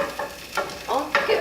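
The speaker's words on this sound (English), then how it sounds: "And I'm going to stir that up, make sure it's all covered," Raw broccoli with a little water being stirred in a pan, a few short scraping swishes with faint sizzling, close up.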